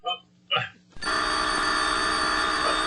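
Telephone bell in a drama setting begins ringing after two short bursts of talk, then rings continuously and loudly to the end.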